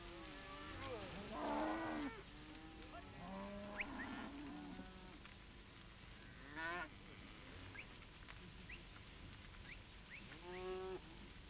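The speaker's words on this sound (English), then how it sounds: "Mounted stockmen stand by ready to control the disturbed cattle as they leave the stockyard" Disturbed cattle moo and bellow repeatedly as the mob leaves a stockyard under watch of mounted stockmen, several loud calls overlapping with quieter lowing and a steady outdoor background.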